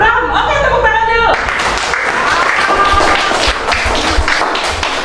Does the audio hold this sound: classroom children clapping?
yes